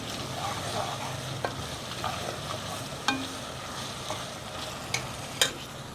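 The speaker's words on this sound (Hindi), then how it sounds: "तो इसको 1 मिनट हम फ्राई कर लेंगे इसके अंदर लहसुन अदरक के पेस्ट को।" Garlic and ginger paste frying in a pan, a constant soft sizzle with occasional scrapes and taps of a spoon stirring, close by.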